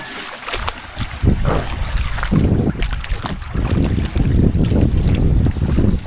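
An outrigger boat (bangka) moves across the water, with gusty wind buffeting the microphone and sloshing water in irregular surges throughout.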